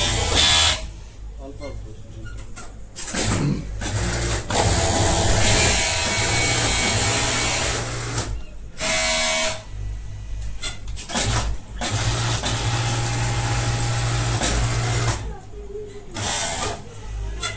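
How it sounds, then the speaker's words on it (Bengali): Industrial sewing machine running on a hoodie garment factory floor, a steady mechanical whirr in bursts with brief pauses, fairly loud and close, with people talking over it. "তেল দেওয়া লাগছে কোন জায়গায় বাজে কিনা দেখো মেশিন আওয়াজ একটু কম কম"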